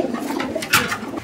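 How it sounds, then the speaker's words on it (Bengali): Maxi racer pigeons cooing while being handled, a few soft, close throaty coos in quick succession with light rustling in between. "প্রত্যেকটা কবুতর লাড়াচাড়া দিয়ে দিলাম, সবগুলো সুস্থ সবল এবং অ্যাক্টিভ আছে"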